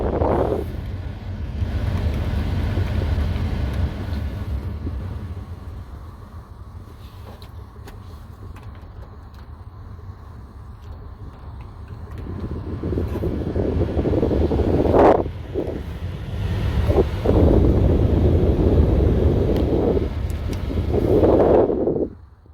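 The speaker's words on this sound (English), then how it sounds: "Now you have full control of your AC blower again." A car's AC blower fan runs after a fix, giving a steady, fairly loud whooshing rush of air that swells and surges in intensity toward the end, with no talking.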